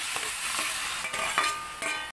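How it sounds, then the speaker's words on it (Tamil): Tomatoes for homemade ketchup sizzle in a hot kadai over a normal flame while a spoon scrapes and stirs them, close and steady. "இதை நல்லா வதக்குங்க நார்மல் ஃப்ளேமில் வச்சு"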